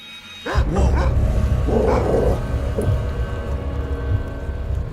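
Dogs barking in the adventure game Black Mirror, several sharp, loud barks close by, followed by snarls and yips that continue over a low rumbling background.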